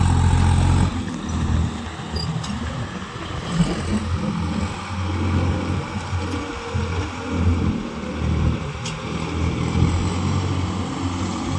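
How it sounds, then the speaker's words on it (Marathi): A tractor engine running with its rotor spinning fast, a loud continuous low rumble and drone that holds steady throughout. "रोटर एकदमच जोरात फिरत आहे बा एकदम जोरात आला बरं का ट्रॅक्टर पाठीमागच्या साईडने"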